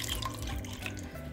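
Water poured into a pot of egg curry, a short steady splashing trickle with small bubbly drips, close and alone.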